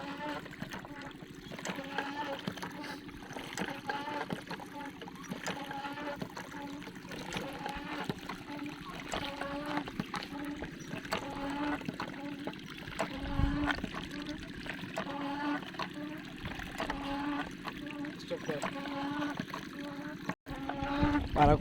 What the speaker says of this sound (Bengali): পানি কিন্তু অনেক বইরা বইরা আসতেছে।